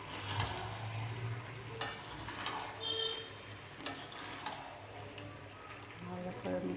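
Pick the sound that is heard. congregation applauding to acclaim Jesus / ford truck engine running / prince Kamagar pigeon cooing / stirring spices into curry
stirring spices into curry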